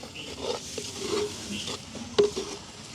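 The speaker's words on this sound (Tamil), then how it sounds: "இதையும் நல்ல வடிவாக பிராட்டி விடுவோம்" Pounded pepper and garlic get stirred in a pan over a village cooking fire, with soft scraping strokes and light sizzling, plus a sharper clink of the utensil against the pan near the end.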